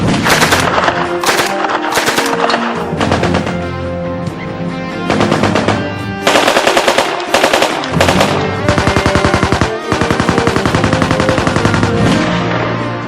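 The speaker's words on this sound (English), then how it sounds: "The machine gun." Machine gun firing in long rapid bursts with short pauses between them, loud and close, with no voices.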